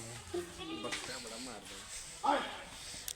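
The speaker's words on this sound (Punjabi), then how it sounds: "ਲੋ ਜੀ ਆ ਬੱਕਰੇ ਦੇ ਕਰੋ ਦਰਸ਼ਨ" A goat on a Saidoke bloodline goat farm bleats a few times close by, short wavering cries mixed in with someone talking.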